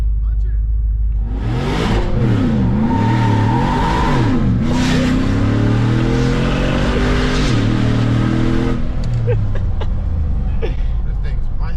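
A Corvette with a twin-turbo engine revs and accelerates hard at close range, rising and falling in loud sweeping pulls that hold steady throughout, with people talking over the engine.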